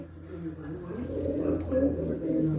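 Flying pigeons of a fancy breed, white-eyed and black-beaked, coo in low, repeated throaty rolls close by, while someone talks over them.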